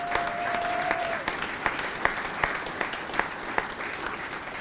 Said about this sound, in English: Let's give a round of applause for all of the great work.